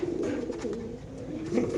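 Fancy pigeons at a market stall coo steadily nearby, a low warbling murmur with a louder swell near the end, mixed with faint background bustle.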